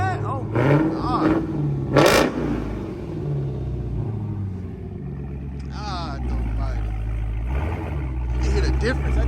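A Dodge Charger Hellcat with its mid muffler deleted rumbles with a deep, loud idle and a couple of sharp revs early on, close by, while people talk excitedly over it.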